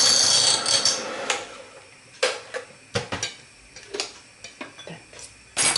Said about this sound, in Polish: I mieszamy.